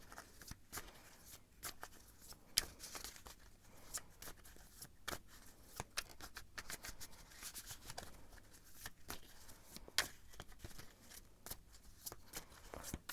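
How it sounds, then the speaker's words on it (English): A deck of tarot cards is shuffled by hand in soft, continuous riffling and flicking bursts, quiet and close, with no voices. "But I'm gonna shuffle and see what the cards have to say about your future spouse"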